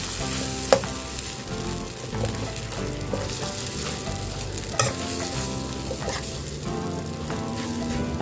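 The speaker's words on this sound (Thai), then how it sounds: "คั่วจนหอมนะครับ" Ingredients for northern Thai tilapia larb are dry-roasted in a pan, a dense continuous crackle and rustle with occasional louder clinks of the utensil, close and without talk.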